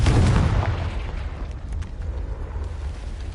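A Confringo spell explodes in Hogwarts Legacy with a loud, deep boom that hits at the start and fades into a rumbling decay over a few seconds.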